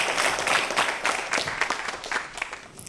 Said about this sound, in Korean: 김동식 교수님께 여러분 큰 박수 부탁드리겠습니다